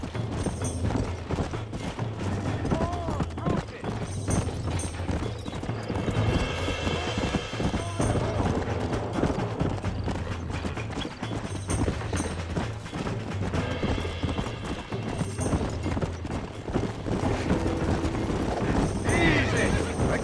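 Horse neighing and clip-clopping hooves in Red Dead Redemption, with repeated whinnies over steady hoofbeats and someone talking throughout as the horse bucks and settles.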